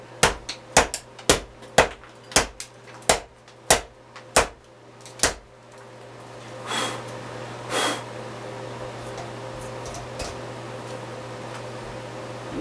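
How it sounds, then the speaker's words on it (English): An axe whacking into a nasty, moss-covered branch: about ten sharp, loud chops in an even rhythm over the first five seconds, then quieter rustling and faint knocks as the strikes stop. "I'm going to do about 10 whacks in it"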